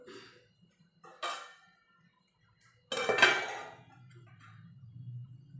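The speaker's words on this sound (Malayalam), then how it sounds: "നമുക്ക് അടച്ച് വെച്ച് കൊടുക്കുക" A metal lid clinks down onto a pot of fish curry, giving two short clattering knocks followed by a quiet simmering hiss.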